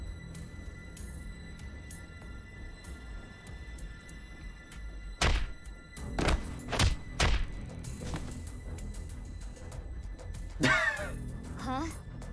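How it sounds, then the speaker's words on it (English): In the video game AI: nirvanA Initiative, a punch and kicks land as a cluster of heavy, close thuds in quick succession over quiet background ambience, with a brief vocal gasp following. "Why did you punch him out of nowhere like that?"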